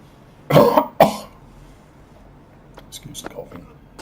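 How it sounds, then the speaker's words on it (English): Two sharp, close coughs burst out in quick succession, followed by quieter throat noises and faint murmuring. "Excuse the coughing."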